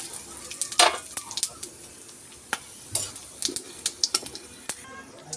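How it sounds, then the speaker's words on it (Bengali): Whole cumin, bay leaf and whole garam masala sizzle softly in oil left from frying lentil dhoka. Sharp metallic spatula scrapes and clinks are scattered over the sizzle. "এবার ওই একই তেলের মধ্যে গোটা জিরে তেজপাতা আর গোটা গরম মশলা দিয়ে দেবো"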